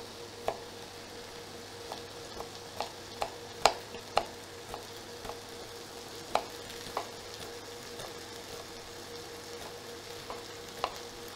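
Chicken escalopes frying in a pan alongside shallots, a low steady sizzle broken by a dozen or so sharp clinks and taps of a utensil against the pan at irregular intervals, close by with no talking.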